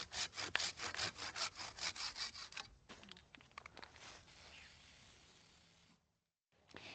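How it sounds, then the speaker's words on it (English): A hand saw cuts through a tree limb in quick, rhythmic back-and-forth strokes. The rasping slows into scattered scrapes, and a brief silence follows. "Once the entire limb is gone, I'll come back and I'll make the cut where we had the string earlier."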